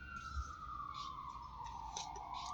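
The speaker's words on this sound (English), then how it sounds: "You do hear the sirens in the back." A single siren wails steadily in the background, its tone sliding slowly downward, moderately distant against a low rumbling ambience.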